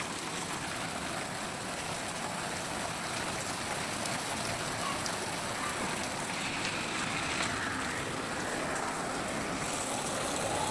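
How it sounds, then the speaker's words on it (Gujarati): Heavy rain pouring down in Rajkot, a dense, steady broadband hiss of drops on surfaces that holds level throughout, close and loud, with no voices over it. "વરસાદ આજે ઘણો છે રાજકોટમાં"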